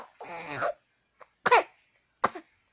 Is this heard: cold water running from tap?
no